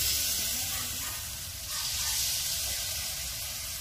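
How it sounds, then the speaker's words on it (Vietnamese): Chicken drumsticks deep frying in hot oil at home, a loud, continuous sizzle and hiss with bubbling crackle that holds steady throughout, close by and with no talk. "Chiên được một lúc thì đùi gà nó vàng, nó chín rồi nè các bạn."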